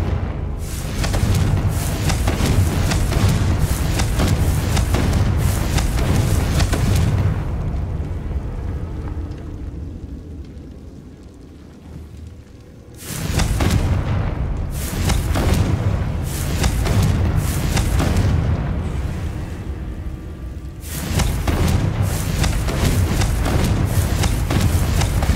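Repeated Confringo blast spells go off in Hogwarts Legacy, heavy booming explosions in long, loud bursts separated by a quieter lull, then further sustained blasts, with no talking over them.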